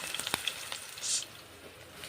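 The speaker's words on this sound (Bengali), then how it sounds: "মশলা এখন কড়াইয়ের মধ্যে আমি ছেড়ে দিচ্ছি, নিয়ে মশলা 1 মিনিট ভেজে নেব" Spices fry in an oiled wok with light crackling pops and a soft sizzle, a few sharp spatters early and a brief louder hiss midway, close and fairly quiet.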